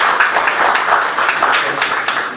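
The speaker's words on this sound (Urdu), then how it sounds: "ڈاکٹر قاضی صاحب کے لیے تالیاں بجاتے ہیں" An audience claps for Dr. Qazi, a brief, dense patter of applause at steady volume, with no voices standing out above it.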